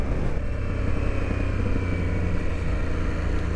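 An Aprilia Tuareg 660 motorcycle cruising on the Autobahn, a loud, steady engine drone with heavy rumbling wind noise and no voices.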